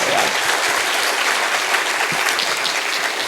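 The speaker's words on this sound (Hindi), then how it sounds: "अपने लिए तालियाँ बजा लीजिए एक बार।" Loud, sustained audience applause at a college poetry event in Kharagpur, with dense steady clapping filling the room throughout and no speech on top.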